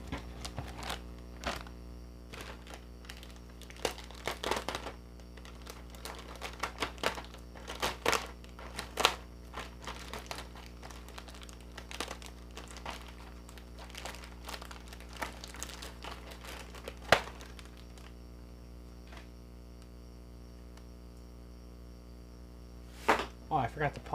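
A Fanhome Back to the Future DeLorean model kit pack is cut open and unwrapped, giving bursts of close plastic crinkling, rustling and tearing, with quieter pauses in between.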